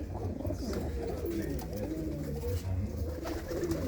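A black-necked pigeon with not a single white feather coos in a steady run of low, throaty calls, close by and continuous, with other pigeon murmurs underneath.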